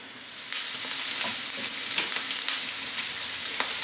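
Chorizo frying in a pan as it releases its oil for a courgette and pepper bake, a steady close sizzle with crackling pops and occasional stirring scrapes throughout.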